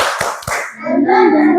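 A class doing the tepuk semangat clapping game: two loud, close hand claps in quick succession, then voices chanting together in a sing-song pattern.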